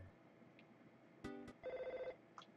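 Telephone ringing in a video game, a sharp electronic burst followed by a warbling trilled ring lasting about half a second, then faint tail tones.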